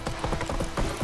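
Roach, a horse in The Witcher 3, gallops in a quick, rhythmic clip-clop of hooves, close and fairly soft over about a second.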